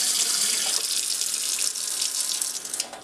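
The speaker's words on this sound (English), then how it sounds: "I'm going to turn on a little bit of water." Tap water runs steadily into a sink to rinse marinated venison for homemade jerky, a continuous close hiss and splash with no talking.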